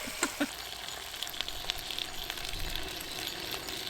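Bacon fries over an open campfire outdoors, giving a steady close sizzle with sharp crackles and pops scattered through it.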